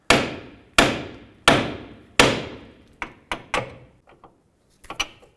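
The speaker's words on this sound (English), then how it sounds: "Hammer on the knuckle right here." A hammer strikes the steel steering knuckle of a 2003-2007 Nissan Murano to free the tie rod end, with four heavy, ringing metallic blows followed by several lighter, quicker taps, close and loud.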